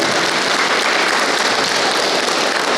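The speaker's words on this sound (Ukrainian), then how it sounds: "Оплесками давайте привітаємо." Steady, dense applause from a crowd at a local gathering welcoming a two-time Olympic judo medalist, loud and continuous throughout with no speech over it.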